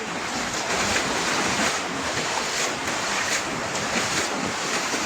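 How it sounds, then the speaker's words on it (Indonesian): Torrential floodwater from the overflowing Siwayut river surges through a flooded village in Kudus, a dense, continuous roar of rushing water with wind-like noise, loud and steady throughout with no talking. "Arus air yang sangat deras menyeret satu unit mobil yang sedang terparkir di halaman"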